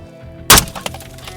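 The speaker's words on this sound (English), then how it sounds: "you're getting actually bullet fragments from the rounds impacting the glass" A 9mm round smashes through a fresh car windshield, giving one sharp, loud crack of breaking glass followed by brief tinkling debris.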